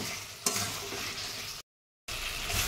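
Green peas fried with spices in a pan, hissing in a steady, close sizzle with a scraping stir near the start. The sound drops out for a moment, then the frying resumes. No talking.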